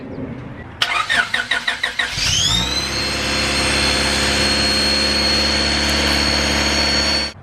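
A car with a turbocharged B20 VTEC engine cranks with a rapid chugging starter, catches and roars to life, then settles into a steady running hum before cutting off.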